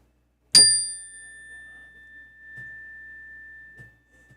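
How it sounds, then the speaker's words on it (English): A single bell is struck once, a bright sharp ding that rings out as a long, clean sustained tone fading slowly, with faint soft knocks in the background and no talk. "let me give you guys and gals a bell."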